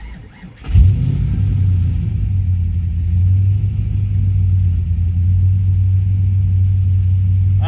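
An LS1 V8 with a drive-by-cable throttle and too much startup airflow cranks and fires, then holds a loud, steady high idle that surges slightly before settling into an even rumble.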